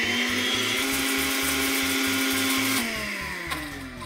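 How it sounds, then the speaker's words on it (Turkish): A blender whirs steadily while mixing salad dressing as olive oil is added, a loud continuous motor drone that drops slightly in pitch near the end; no one speaks. "Şimdi blenderı çalıştırıyorum ve bir yandan zeytinyağı ekliyorum."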